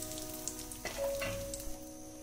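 Dried red chillies, bay leaf and whole cumin seeds fry in hot oil in a pan, a faint, soft sizzle with a few small pops and a light stirring scrape.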